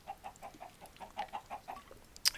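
Chickens in the Minecraft-style video game NortLock cluck in a steady rhythmic series of about a dozen short clucks, close and moderately loud, ending with one sharp higher squawk.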